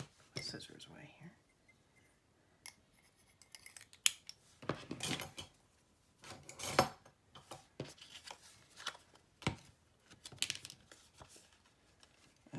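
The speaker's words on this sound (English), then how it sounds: "Scissors away here." Scissors snip paper while a mini album is being made, a series of short crisp cuts in uneven bursts, close and fairly quiet, with light handling noise in between and no talking.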